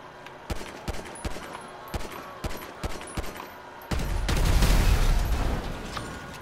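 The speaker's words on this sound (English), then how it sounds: "this gun can do some damage" Single shots from an SNS pistol in GTA V, spaced irregularly and fairly sharp, followed by a louder, denser burst of shooting and rumbling noise toward the end.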